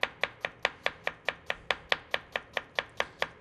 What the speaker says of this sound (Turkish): İnce ince soğanımızı doğramaya başladık.